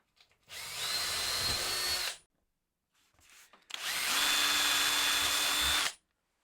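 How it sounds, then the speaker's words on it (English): Power drill boring pilot holes into wood with a countersinking bit while building saw stands, in two loud sustained bursts of whining drilling separated by a short pause. "drill some pilot holes with the countersinking bit"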